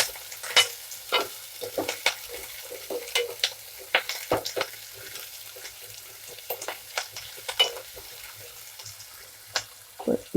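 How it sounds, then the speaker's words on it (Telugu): Onions with curry leaves frying in a pan: a soft continuous sizzle broken by frequent irregular clicks and scrapes of stirring, close and fairly quiet, with no talk. "ఉల్లిపాయలు పచ్చివాసన పోయేదాకా వేయించుకున్నాము."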